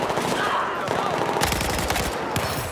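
Bulldog rifle fire in Battlefield 4, rapid automatic bursts that are close and loud, with a short lull before the shooting picks up again in a quick rattling stream.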